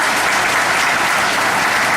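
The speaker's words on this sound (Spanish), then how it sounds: "Ven un aplauso al Señor." Church congregation applauding the Lord during a sermon, steady dense clapping filling the whole stretch without pause, loud and close, no voices on top.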